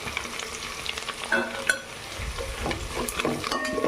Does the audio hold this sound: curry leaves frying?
yes